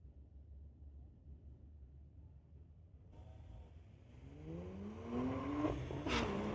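A 2009 BMW 135i race car idles with a low rumble, then revs up and accelerates, its engine note climbing steadily and growing louder at a drag strip.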